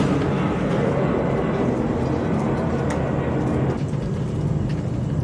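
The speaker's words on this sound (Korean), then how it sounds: "비행기 소리 들리죠?" An airplane passes overhead above an empty new house in Thailand, a loud, continuous broad roar that resonates through the bare rooms while a person talks.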